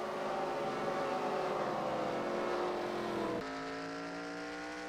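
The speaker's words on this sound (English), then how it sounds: "So here comes Ron out of the pits." A race car accelerates out of the pits at Kentucky during a stock car race, its engine pitch climbing steadily over a loud field of other cars, then cutting to a lower, steadier drone as it passes.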